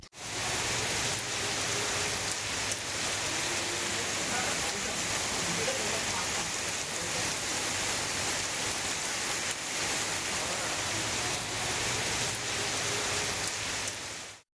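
Moderate rain falls steadily across the Tiruvarur district, a dense, even hiss of drops that holds unbroken for the whole stretch with no voices over it.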